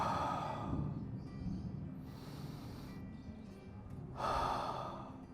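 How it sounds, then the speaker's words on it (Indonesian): Slow, deep breathing in a breathing exercise for shortness of breath while recovering from COVID-19 in isolation, sitting propped on stacked pillows: a long airy inhale, a quieter stretch, then another rush of breath, close and alone. "Kita tarik nafas."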